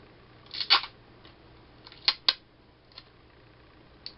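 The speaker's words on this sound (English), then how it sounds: "you need to just cut a very thin bit of tape" Scissors snip a very thin strip of sellotape, several quick, sharp, quiet cuts close by, spread irregularly across the clip in a quiet room.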